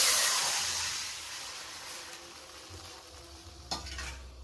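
Banana peels with their water tipped into a little hot oil in a wok, giving a steady soft sizzle and hiss that fades gradually, with a brief clatter near the end.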